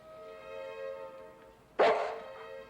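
A single sharp dog bark sounds out in a TV drama scene over a quiet, humming background.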